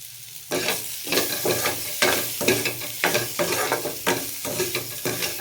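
Potatoes frying with cumin seeds in a pan on low flame, a steady sizzle broken by repeated rhythmic stirring scrapes about every half second, close and clear with no talk.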